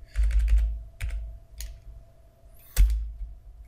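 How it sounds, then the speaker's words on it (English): A short run of keystrokes on a computer keyboard while an IP address is entered, a quick cluster of clicks, a few isolated taps and a final sharper key press, close and fairly quiet. "I also have to type my IP address correctly."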